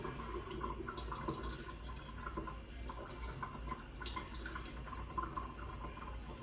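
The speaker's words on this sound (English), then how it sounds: "we're going to wet thoroughly the hands with the fingers pointing down and the hands are below the elbow" Tap water runs steadily over hands being washed at a sink, a continuous splashing flow with light dripping throughout, moderately close and without any talk.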